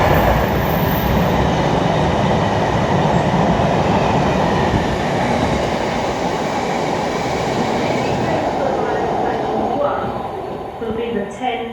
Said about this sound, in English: Now passing through is going to be our first freight train of the day and our first train of today, which will be a freight class 66